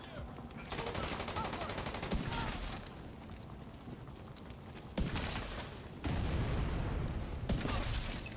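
Gunfire in The Division 2 shooter game, rapid automatic bursts and fusillades in several loud stretches separated by quieter pauses, close and sharp-edged, with a voice talking occasionally.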